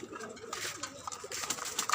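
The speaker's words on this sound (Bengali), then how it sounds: "এদিকেও কবুতর আছে আমার" Pigeons coo softly and repeatedly on a rooftop garden, several low rolling calls close by with light background noise and no speech.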